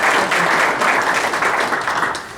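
Dense, loud applause from a meeting audience welcoming a presenter, continuous clapping throughout that tapers slightly at the end.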